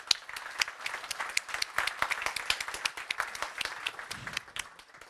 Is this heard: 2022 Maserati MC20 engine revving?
no